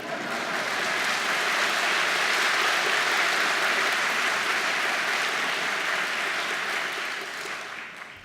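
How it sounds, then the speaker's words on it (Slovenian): An audience applauds its president at a Women's Day celebration, a dense, sustained burst of clapping that swells quickly, holds steady and fades out near the end. "vstan, da ti damo aplavz"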